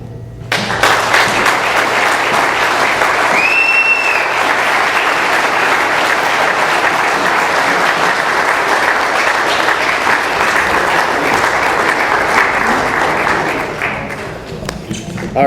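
Sustained, loud audience applause fills the room at an evening talk, with dense clapping rising quickly and holding steady before tapering near the end.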